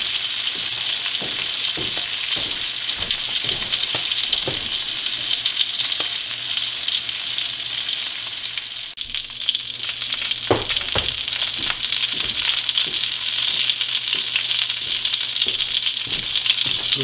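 A thin Arctic char fillet fries with a squirt of lemon in a pan of garlic and butter over low heat, a continuous close sizzle with occasional spatula scrapes and clicks, no voices.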